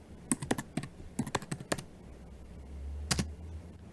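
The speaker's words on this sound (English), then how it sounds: "What are you typing?" Bursts of computer keyboard typing, quick clustered key clicks in short runs with pauses, close and clear, while a low hum swells toward the end; searching online listings for fortune tellers in Bucharest.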